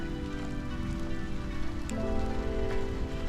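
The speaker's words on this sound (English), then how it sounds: "the rain is coming down" Rain pours down steadily during a spring thunderstorm, a constant close hiss and patter on surfaces with no voices.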